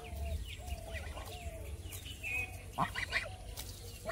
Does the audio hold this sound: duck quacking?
yes